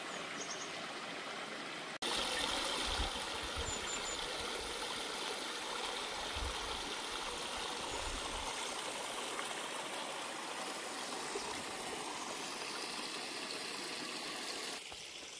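A small stream trickles and burbles beside a quiet forest trail, a steady soft wash of water that runs evenly throughout at low level.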